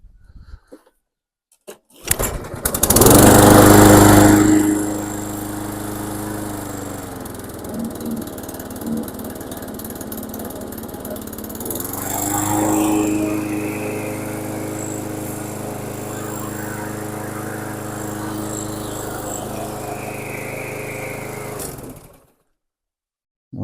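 Petrol lawn mower engine after valve lapping starts with a pull, roars loudly, settles into a steady running drone with a brief rev in the middle, then cuts off abruptly, close by with no talk.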